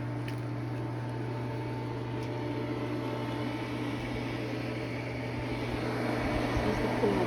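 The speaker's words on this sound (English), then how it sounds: "So this is the heat pump that heats the pool." A pool's heat pump heater runs with a steady mechanical hum and fan whoosh, a constant close drone that swells slightly toward the end, with no speech.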